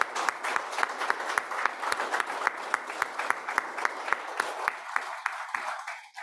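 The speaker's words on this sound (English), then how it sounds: "how about another round of applause for all our award recipients today?" Dense, steady applause from a dinner audience at a seniors' awards ceremony honoring award recipients, a continuous wash of many hands clapping that fades out at the end.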